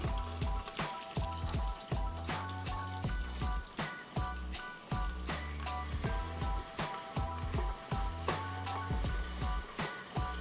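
Onions sizzling and frying in a pressure cooker for chicken pulao, a steady crackling hiss close by with no talk, carried along under a rhythmic beat of background music.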